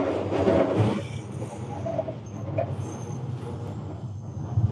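A train rumbles along elevated tracks in Tokyo, a continuous roar overhead with faint wheel squeals mixed in with street ambience.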